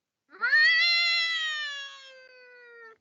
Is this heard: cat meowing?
yes